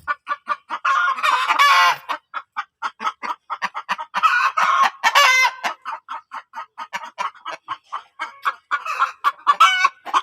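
Native chickens on an egg farm cluck loudly and close in busy, overlapping bursts, with several sharp squawks standing out from the steady chatter.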